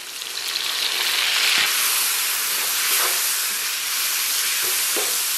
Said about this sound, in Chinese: 咱把五花简单煸炒一下，把肉片炒至微微焦黄啊